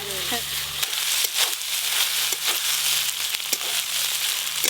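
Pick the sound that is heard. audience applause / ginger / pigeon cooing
ginger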